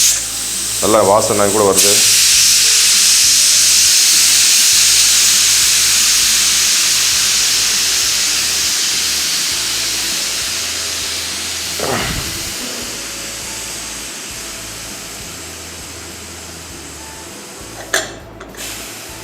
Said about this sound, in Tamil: ஸோ இப்போ அந்த ப்ரெஷரை நம்ம ரிலீஸ் பண்ணிடலாம்.